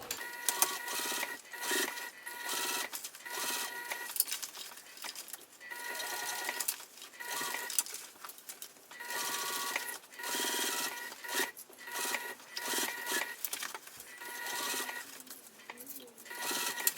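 A sewing machine top-stitches a crossbody bag in repeated bursts of quick mechanical stitching, with short pauses between runs as the work goes slowly and evenly.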